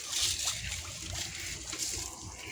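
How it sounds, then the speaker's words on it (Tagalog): Water is poured into a mix of rice bran and feed for ducks, a soft, continuous splashing trickle that holds fairly quiet and steady, with no speech. "Lalagyan ko lang po yan ng tubig tsaka molasses."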